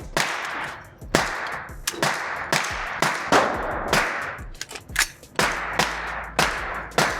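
Repeated sharp gunshots from a 9mm CMMG pistol-caliber carbine fired outdoors at targets 15 yards away, about a dozen cracks in an uneven rhythm, loud and close with short echoing tails.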